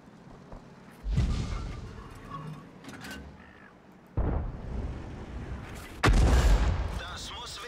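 Tank gunfire in the World of Tanks video game, three heavy booms spaced a few seconds apart, each with a rumbling tail, with game noise and someone talking in between.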